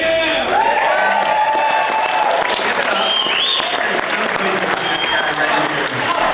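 Crowd cheering and applause at a Young Life gala in Park City: loud, sustained clapping blended with whoops and shouted voices, continuous and near.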